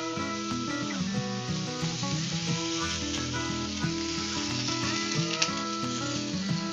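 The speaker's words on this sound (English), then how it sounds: "And so it's getting a good sear on it." Ahi tuna steak sears in a hot grill pan with a steady, close sizzle and fine crackling over a constant hiss, with some faint tonal background sounds running through it.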